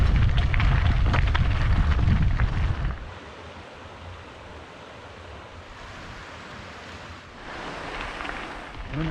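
Water from El Chorro waterfall near Navafría rushes and splashes among stones, a steady broadband roar that is loudest at first, eases, then swells again.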